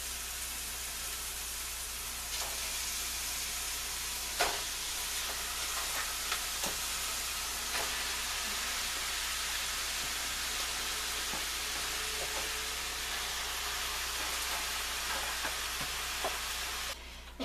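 Ground turkey fries in a pan, a steady close sizzle that holds through the whole stretch, with a few faint scrapes and taps from stirring and no talk.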